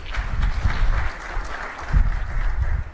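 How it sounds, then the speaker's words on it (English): Audience applause at a fireside chat event welcoming a minister, a loud clattering burst of many hands clapping that swells and dips over about three seconds, with low rumbling room noise underneath. "Mr. Lokesh Nara, can we have a round of applause, please?"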